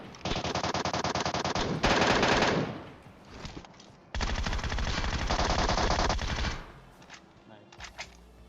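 Bursts of MK14 rifle fire in the shooter game PUBG Mobile, loud and rapid, in two long volleys of repeated shots separated by a short pause, then a few scattered quieter shots trailing off.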